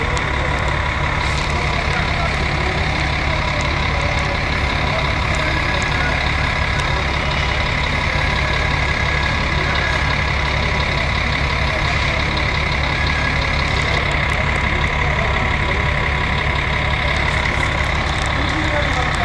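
A loud, steady rumble of idling buses and engine noise fills a busy bus station, continuous throughout with faint hissing and traffic underneath.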